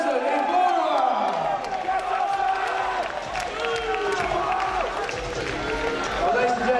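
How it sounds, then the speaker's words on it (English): A boxing crowd at The Ultimate Contender 90kg final cheers and applauds the winner, a steady dense roar of clapping and shouting that fills the room with voices mixed in. "a big round of applause please for James Webb"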